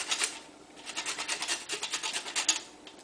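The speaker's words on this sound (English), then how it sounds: "you can use this fine grate on here to get some of the zest off" Citrus zest being grated on the fine side of a box grater, a quick run of rhythmic rasping strokes, close and fairly loud, with no talking.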